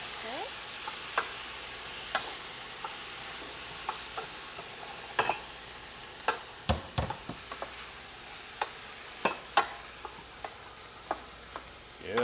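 A spoon scrapes sofrito around a hot pan in a string of sharp, irregular strokes over a quiet, steady sizzle, with no talking.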